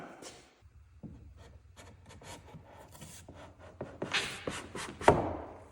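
A wooden piece is pushed and rubbed snugly into a fitted slot in a quiet workshop, giving close scraping and knocking wood-on-wood sounds that build to a sharper seating knock near the end, with no talking.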